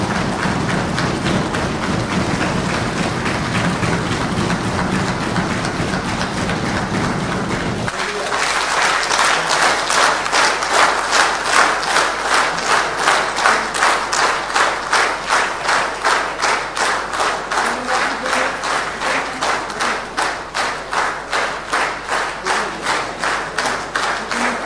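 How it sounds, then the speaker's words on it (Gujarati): Sustained applause fills a legislative assembly hall, starting as a dense wash of crowd noise and breaking into loud, rhythmic unison clapping that continues steadily. "સમગ્ર જે ગૃહ છે તે તાળીઓના ગડગડાટથી ગુંજી ઉઠ્યું હતું"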